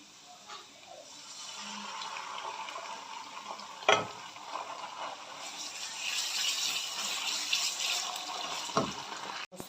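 Canned tomato sauce is poured into frying garlic in a pan, giving a soft sizzling hiss that swells as the liquid hits the hot oil, with a couple of sharp clanks from a utensil, close and without talk.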